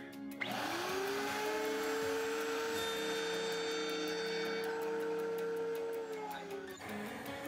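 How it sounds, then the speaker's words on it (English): A router runs at a steady high-pitched whine while machining pieces of wood for a stone house renovation. It starts abruptly, holds a constant tone for about six seconds, then winds down, with no talking. "Now what I'm going to be doing is running these pieces through the router."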